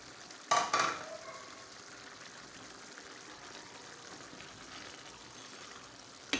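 Chopped carrots cook in a pan: two loud clattering splashes as they go in, then a quiet, steady sizzle that continues alone.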